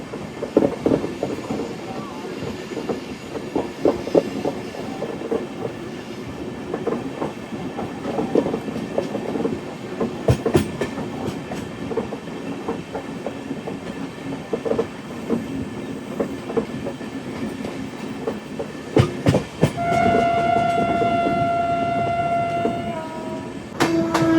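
Ratnachal Express, an LHB-coach train from Vijayawada to Visakhapatnam, runs with a steady rumble and rhythmic wheel clatter, and sustained horn tones sound near the end.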